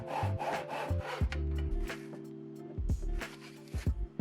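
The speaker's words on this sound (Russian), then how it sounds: "Я напилила нужные размеры при помощи стусла" A hand saw cuts thin wooden slats, 5 by 60 millimetres, held in a miter box, giving close rasping back-and-forth strokes with the steady hum of the blade between pulls.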